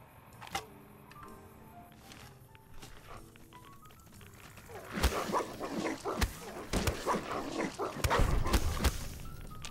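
A dog barks in Fallout: New Vegas, several sharp, loud, irregular barks breaking through game background noise and mingling with ambient sounds.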